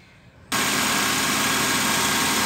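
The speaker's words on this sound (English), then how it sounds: "at that point the engine is gonna add noise to the video." A Honda Accord engine idles with the air conditioning running, a loud steady hum that starts abruptly and holds constant, close by with no talk.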